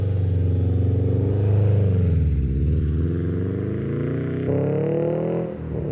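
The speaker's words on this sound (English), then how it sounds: "Don't mind the sound because I do have an exhaust leak that I'm going to fix later on." A 2013 Subaru WRX with an exhaust leak runs close by, its engine rumbling and shifting in pitch as it revs up and settles, loud and steady with no talk over it.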